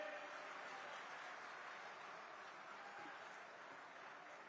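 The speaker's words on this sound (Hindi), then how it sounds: "जोरदार तालियों के साथ स्वागत करें।" Audience applause greeting a speaker at a political rally in Sirsa, Haryana, a steady, dense wash of clapping that stays fairly faint and distant throughout with no distinct individual claps.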